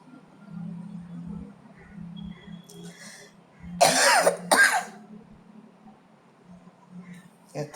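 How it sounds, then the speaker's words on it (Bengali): A couple of sharp coughs and throat clearing in the middle, close and loud, over a quiet background with faint low rumbling. "অসম্ভব কাশি হচ্ছে কথাই বলতে পারছি না"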